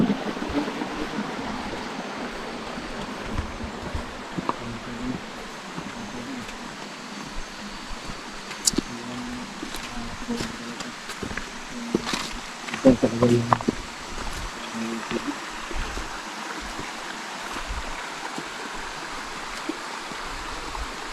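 A river flows with a steady, even rush of water close by, while people talk over it and occasional knocks and footsteps come through.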